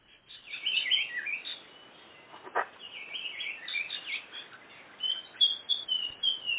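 Blue Pitta calls in the Kaeng Krachan forest of Thailand, a series of clear, high whistled notes and short phrases repeated at intervals, fairly close and heard alone over quiet background.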